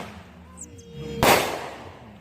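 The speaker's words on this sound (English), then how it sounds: "Fireworks are good." A single firework bursts with a sharp, loud bang after a brief rising whistle, followed by a fading crackling rumble.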